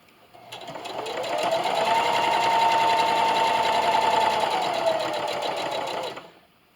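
A sewing machine runs a straight stitch along a Christmas stocking seam in one steady, close burst of rapid whirring that starts up, holds an even pace for several seconds, and stops cleanly.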